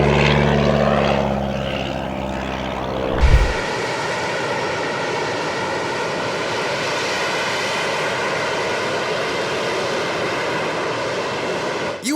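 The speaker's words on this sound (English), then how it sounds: "jets doing vertical takeoffs may just be the coolest thing that's happened in the world of aviation" A jet aircraft's engines roar during a vertical takeoff. A loud, steady broadband blast sets in abruptly after a brief thump and holds at full strength to the end.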